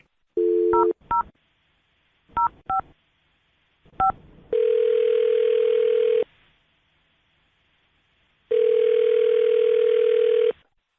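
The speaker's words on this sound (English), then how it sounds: "I'm going to dial the phone number right now" Telephone touch-tone beeps dialing a number in quick bursts, followed by two long steady ringback tones separated by silence.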